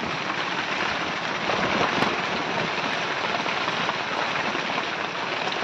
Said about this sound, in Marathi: मस्त पाऊस जोरात सुरू आहे